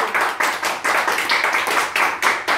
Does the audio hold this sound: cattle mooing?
no